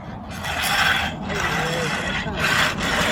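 Freshly poured concrete being rubbed by hand on a circular slab, a steady rasping scrape in broad strokes that swell and fade over a few seconds, close and continuous with a faint voice somewhere beneath.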